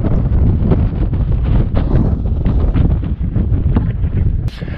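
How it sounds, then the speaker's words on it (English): Strong wind gusting across the open ruins of Kars in remote eastern Turkey, a loud, continuous roar buffeting the microphone with rumbling low rushes and no voices. "the wind is bellowing through"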